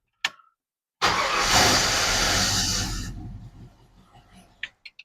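A 1967 Ford Falcon with a newly installed aftermarket ignition distributor cranks and fires, roaring into a loud rev that holds for about two seconds, then settles and fades, with a few small clicks and knocks afterward.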